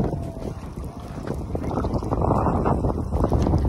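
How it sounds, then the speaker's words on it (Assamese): Heavy rain and gusting wind buffet a rider on a motorcycle, a loud, dense rush of wind and water noise that builds and stays strong, with no clear speech. "ডাঙৰ বৰষুণ দিছে ডাঙৰ ডাঙৰ"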